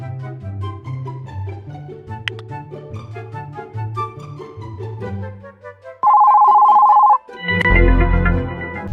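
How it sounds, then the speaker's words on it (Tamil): A phone ringing on a call: a steady electronic ring tone sounds loudly for about a second, after a stretch of melodic ringtone music, then music resumes. "இரு அவனுக்கு ஃபோன் அடிக்க."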